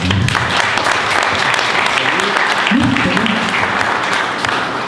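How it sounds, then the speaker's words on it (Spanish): A book launch audience claps for the author Cristian, dense sustained applause filling the room from start to finish, with some voices mixed in. "Por favor, Cristian, un aplauso para Cristian."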